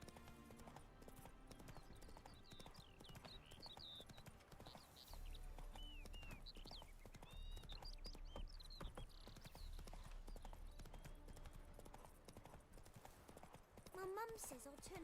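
The horse Roach in The Witcher 3 trotting with rhythmic hoof clip-clops, a brief whinny, faint under game music and effects.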